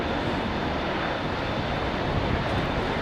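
Aircraft with Rolls-Royce Trent 800 engines at Heathrow, a steady, loud, broad engine roar that holds unbroken and close throughout, with no talking.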